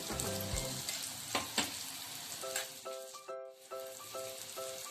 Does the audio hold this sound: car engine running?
no